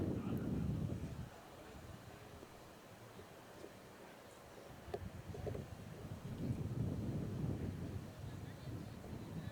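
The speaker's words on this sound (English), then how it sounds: "Wind's still whipping around, but now it's kind of swirling around instead of blowing out to left." Gusty wind buffets the microphone at an outdoor baseball stadium during a Buffalo vs Memphis game, with a loud low roar at the start that eases through the middle, then swells again.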